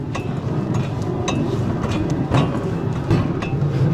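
A train rolls steadily past on a railway close by, with a continuous heavy rumble and periodic clattering wheel clicks, loud and alone without talk.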